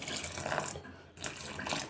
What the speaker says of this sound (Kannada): ಇವಾಗ ನೀರು ಹಾಕಿ ನಾದ್ಕೊತಾ ಇದ್ದೀನಿ